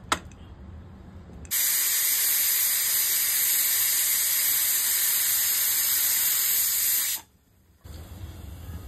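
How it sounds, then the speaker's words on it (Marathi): A pressure cooker boiling corn kernels lets out a loud, continuous hiss of steam that starts abruptly and holds for about six seconds, then cuts off sharply. Quieter kitchen noise fills the moments before and after. "आता हे कणसाचे दाणे आपण कुकरला उकडून 2 त्याच्या शिट्या मारून घ्यायच्या."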